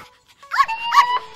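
A cartoonish dog in a Turkish children's video game lets out two short rising whimpers in quick succession, fairly close and clear, with a softer whine trailing off at the end.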